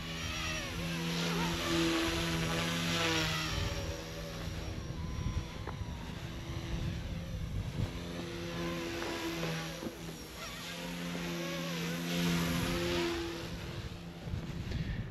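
A helicopter in flight, with a steady loud rotor and turbine drone and strong low harmonic tones that swell and ease slightly, continuous throughout with no voices.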